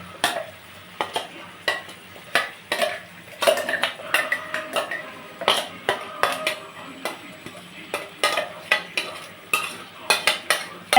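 Spice paste and garam masala fry in a pan while a utensil stirs and scrapes, giving repeated clinks and clatters over a soft sizzle, close and fairly loud, with no talk.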